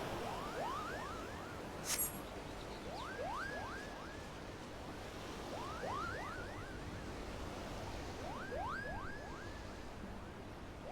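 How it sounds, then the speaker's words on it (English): Ocean waves wash steadily onto a beach in Final Fantasy XIV, a continuous soft surf hiss with repeated chirping bird calls layered over it. "Goes right off to the sound of the waves."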